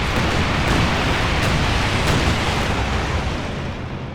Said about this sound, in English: Airstrike has been authorized.